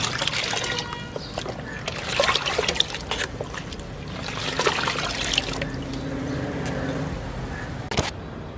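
Water and amino acid fertilizer are stirred together in a container, with close, continuous sloshing and trickling and a few sharp knocks against the vessel.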